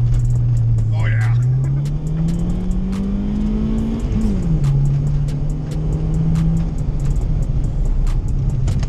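An EK hatchback engine on studded tires holds a steady drone, then revs upward and climbs in pitch before easing back as it launches on ice, loud and close throughout.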